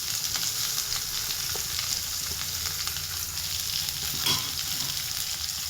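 Onion and garlic sizzle steadily in hot oil in a pan, a dense continuous crackle with occasional stirring, close and fairly loud with no talking.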